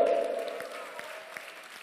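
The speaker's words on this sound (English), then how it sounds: "Your big round of applause for Mihail Yosiffov for all the arrangements." Applause from a concert audience after a show with two sopranos singing classics and jazz, a soft and fairly distant patter with a sustained tone from the stage above it.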